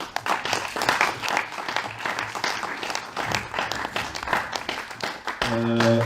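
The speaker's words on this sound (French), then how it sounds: "Je vous demande d'applaudir Rosseux," Audience applause for a comedian at a Paris short-film festival, a steady wash of clapping from a crowd that continues throughout, with a tonal musical hum rising near the end.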